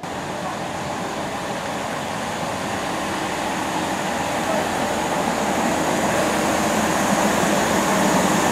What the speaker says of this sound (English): So we're going to hop on our train now and head to Reading Green Park.